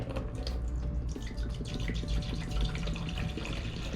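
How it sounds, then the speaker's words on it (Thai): Water from a bottle being poured into a Xiaomi Kitten & Puppy cat water fountain, a steady close splashing and gurgling stream with small dripping sounds throughout, no speech. "เราก็เทน้ำไปเลย"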